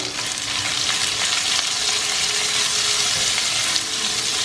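Sliced onion fries in hot oil with curry leaves in a pan for beans moong dal curry, a loud, dense, unbroken sizzle with faint stirring taps and no talk.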